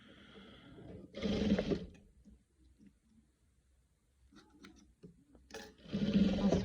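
A sewing machine stitching a patchwork quilt with gold ribbon, two loud bursts of rapid whirring needle runs at the start and end, separated by a quiet stretch of faint clicks and fabric handling, close up.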